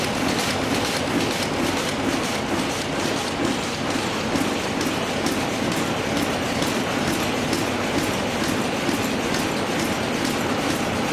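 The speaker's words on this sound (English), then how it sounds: "this 2-cylinder National NAW is 132 horsepower at 300 RPM. Yes, well now we have them both running." Two old National diesel engines, one a 2-cylinder NAW rated 132 horsepower at 300 RPM, run together in a historic gold mine power station. They make a loud, steady mechanical clatter that fills the space, with no talk.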